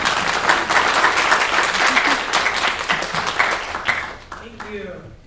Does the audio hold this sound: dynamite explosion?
no